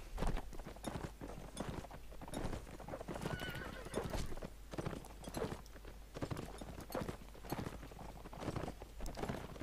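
Horses gallop and neigh during a Mount and Blade Warband battle, with dense, continuous hoof clatter and several whinnies rising over the busy game mix throughout.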